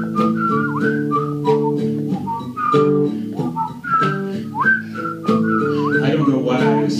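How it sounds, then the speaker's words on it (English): Someone whistles a wavering melody over a sustained instrumental backing, the notes bending and sliding in short phrases. "I don't know why I insist on whistling when I do it so poorly."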